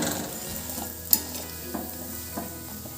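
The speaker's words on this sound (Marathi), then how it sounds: "छान खरपूस भाजल्या जाते पोळी." Sweet tilgul poli roasting on a griddle over low heat, a gentle steady sizzle broken by a sharp metallic tap and a few soft scraping thuds as it is turned.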